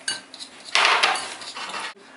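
Flour being mixed into cake batter in a bowl for a Nutella roll cake, heard as clinking utensil-on-bowl scraping with a louder stretch of stirring in the middle, close and alone.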